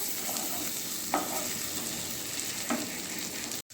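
Prawns frying in oil in a wok give a steady close sizzle, broken by a couple of brief sharp clicks from stirring, with no voices.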